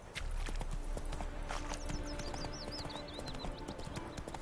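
The horse Roach trots in The Witcher 3, its rhythmic hoof clip-clops steady and close, with bird chirps over a faint outdoor ambience.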